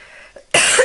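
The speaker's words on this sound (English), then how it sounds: "excuse me, I'm going to cough" One loud, close human cough bursts out after a brief quiet moment in a home kitchen pantry, short and harsh, with nothing else heard.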